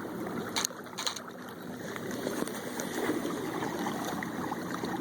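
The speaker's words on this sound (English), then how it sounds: "Kayak moves pretty good." A motorized kayak fitted with a new motor setup moves through water, giving a steady wash of splashing and rushing water with a faint motor hum, alone at moderate level with occasional brief splashes.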